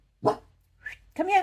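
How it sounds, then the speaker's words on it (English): A dog barks once nearby, then gives a short higher yelp, and a voice speaks briefly over the barking in a room. "sorry about the dog barking"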